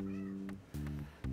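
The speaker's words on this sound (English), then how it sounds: "I think my cat smells the tacos" A pet cat named Kaya meowing indoors, a couple of short close meows over a steady droning background hum.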